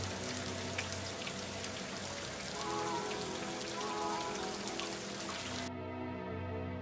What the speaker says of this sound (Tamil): சட்டென மழை பெய்து